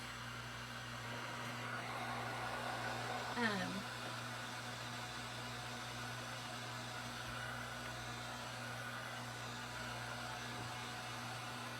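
A hair dryer blows steadily to dry paint on a sunflower welcome mat, a constant faint whooshing hum with a low tonal drone throughout.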